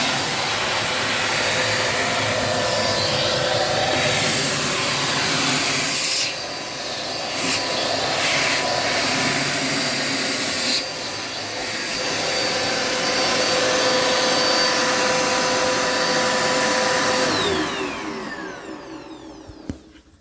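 A Dirt Devil multi-surface vacuum cleaner runs with a steady, loud broadband whine and hiss, briefly dipping twice as it is moved, then winding down near the end.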